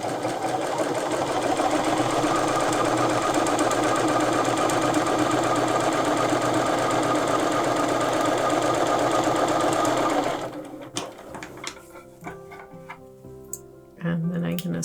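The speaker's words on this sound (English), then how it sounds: "So then I'm going to take my first 4 and sew those together." A sewing machine stitches quilt pieces together for a scrap-fabric Thanksgiving table runner, running loud and steady for about ten seconds before stopping, followed by scattered handling clicks and a brief restart.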